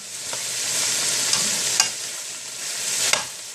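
Ground beef sizzles steadily in a frying pan while a spatula chops and stirs it, with a few sharp scraping clicks against the pan over the constant hiss; no talking.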